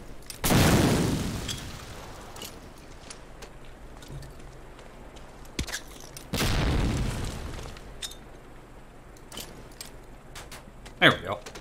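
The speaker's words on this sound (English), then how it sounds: "Throw a grenade into each of the concrete boxes." Two grenade blasts in Medal of Honor: Allied Assault land several seconds apart, each a heavy, muffled boom with a short rumble. Quieter game sounds and clicks fill the gaps between them.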